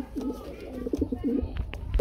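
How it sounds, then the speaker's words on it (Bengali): Pigeons cooing in a Lahori pigeon loft, a steady run of low, throaty coos close by, overlapping and continuous, with light rustling underneath. "প্রতিটা কবুতরের বন্ধুরা এতটাই অ্যাক্টিভ, মানে ডাকাডাকি আছেই"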